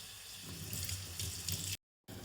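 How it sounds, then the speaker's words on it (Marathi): Tap water runs steadily into a sink while small dried fish are rinsed, a close, even splashing stream that cuts to silence briefly near the end before resuming. "आता आपण थंड झाल्यावर मासे 2 ते 3 वेळा पाण्याने स्वच्छ धुवून"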